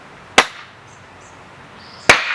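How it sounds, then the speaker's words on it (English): Two sharp, loud wooden cracks about 1.7 seconds apart as an 18-inch Ontario machete is batoned through thick firewood, close by and otherwise quiet. "Let's see if I can split this one in one shot."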